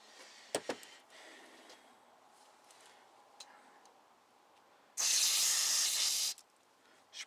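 Carburetor cleaner is sprayed through a Honda GC160/GC190 small-engine carburetor during a rebuild, a single loud hissing burst lasting over a second, preceded by faint clicks and handling noises in a quiet room.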